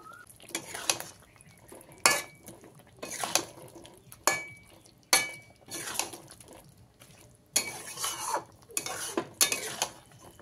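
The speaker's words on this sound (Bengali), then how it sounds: "মশলাগুলো দিয়ে ভালো করে চিকেনের সঙ্গে মিশিয়ে নেব।" Chicken is mixed with coriander and cumin powder in a pan, bursts of scraping and stirring with metal clanks of a spoon against the pan, coming in irregular clusters separated by short pauses, close and with no voices.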